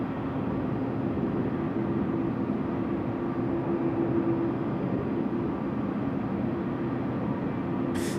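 Velocity 876 departing runway 16 right at Sydney Airport at night, heard as a constant, distant, rumbling jet roar with no breaks.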